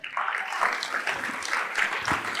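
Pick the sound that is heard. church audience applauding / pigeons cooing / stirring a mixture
church audience applauding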